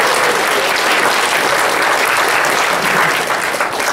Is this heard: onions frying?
no